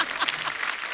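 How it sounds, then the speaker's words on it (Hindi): Studio audience clapping on The Kapil Sharma Show comedy show, a brief, full burst of applause with no voices over it. "वाह क्या सटायर मारा है, जोरदार तालियां हो जाएं।"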